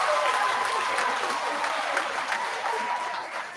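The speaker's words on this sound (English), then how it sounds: "So please, let's give Brock a big round of applause." Audience applause at a middle school awards ceremony, a steady, full wash of many hands clapping throughout, fading slightly at the end.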